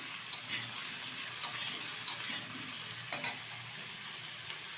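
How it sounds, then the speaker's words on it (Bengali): Fried lentil dumplings going into a simmering fish curry with cauliflower and potato, giving a soft continuous sizzle under a few sharp clinks and scrapes of a spoon in the pot. "এই যে বিলি ডালের বড়ি এই ঝোলের মধ্যে দেবো বলে"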